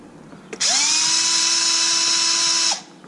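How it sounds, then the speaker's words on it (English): An electric drill fitted with an Allen bit backs a screw out of a Kraton 8S RC car, a single loud, steady high whine of about two seconds that spins up sharply and winds down, close by with no talk. "If you have a drill and the correct size Allen, we'll remove that screw"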